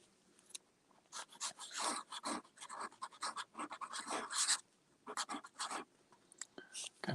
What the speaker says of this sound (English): Let's see what this nib does. This is in a Conklin pen.